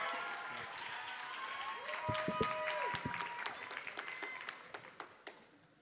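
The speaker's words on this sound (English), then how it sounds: "Please give them a big round of applause." Conference audience applause, a soft, fairly distant patter of clapping that fades away toward the end, with a faint voice and a brief tonal sound in the middle.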